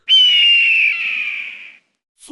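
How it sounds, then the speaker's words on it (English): A hawk gives a single loud, drawn-out high scream lasting under two seconds and trailing off slightly, heard alone, followed by a brief clipped sound at the end. "Hawk."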